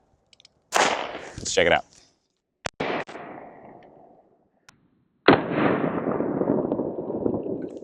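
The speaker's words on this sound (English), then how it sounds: "This is their subsonic stuff, 22 subsonic out of a pistol, the Smith & Wesson Victory." .22 subsonic rounds fired from a Smith & Wesson Victory pistol fitted with a suppressor: two sharp, loud cracks a couple of seconds apart, a brief spoken remark after them, and a louder burst of noise near the end.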